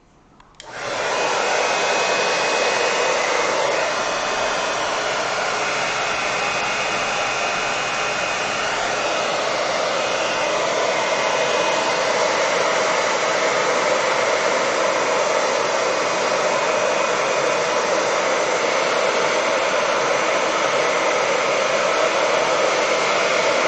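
A hair dryer blows onto a watercolor painting, switching on abruptly and then running as a loud, continuous airy roar held steady for over twenty seconds at close range, with no voices.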